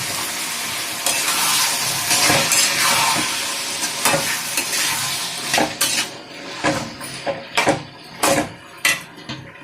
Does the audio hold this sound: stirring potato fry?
yes